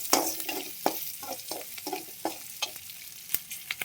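Onions fry in a pan with cinnamon, cloves and pepper for chicken curry, a soft steady sizzle punctuated by repeated sharp clicks and scrapes of stirring.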